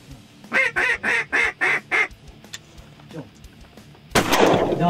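A shotgun blast from a duck hunt bursts loudly near the end, after a run of about six rhythmic goose-like honks from a call or birds close by.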